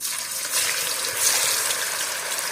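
Cauliflower pieces for Gobi Manchurian dropped into hot oil give a steady, loud, hissing sizzle that holds throughout without pause.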